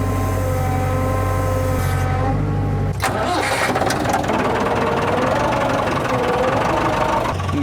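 A Massey Ferguson 165 4x4 tractor engine rumbles steadily at close range during a mud hole recovery, a deep low chugging that shifts and roughens partway through before continuing loud and continuous.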